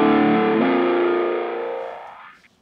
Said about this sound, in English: I think you can hear the effect of the filter dynamically tracking the sound.